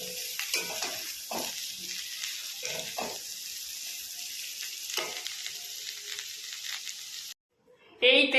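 Cumin paste sizzles in hot oil in a pan, a steady close frying hiss broken by a few soft stirring knocks, then a brief silence and a sharp burst of sizzle at the end.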